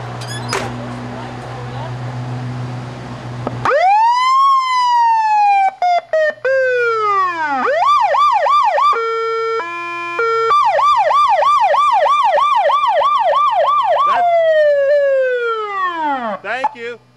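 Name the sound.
siren of restored 1975 Michigan State Police car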